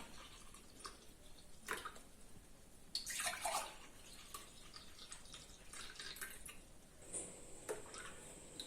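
Water is poured into a vessel of spiced amla buttermilk, giving faint trickling and dripping splashes in short irregular bursts at low volume.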